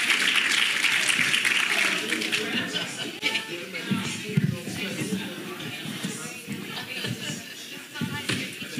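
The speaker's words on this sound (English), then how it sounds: "Let's give them a round of applause." Applause from a conference audience as panelists head to the stage at a women's leadership forum, dense at first and then thinning into scattered claps mixed with shuffling and murmuring voices.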